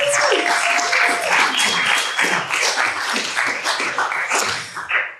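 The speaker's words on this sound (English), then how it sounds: "please can I have a round of applause for our amazing panelists" A conference audience claps for panelists at a roundtable on consumer goods brands, a close, lively burst of many hands with uneven, crackling rhythm throughout.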